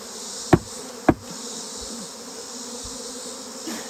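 Honeybees hum in a steady, dense drone close by around a hive box, with a couple of sharp knocks breaking through the buzzing.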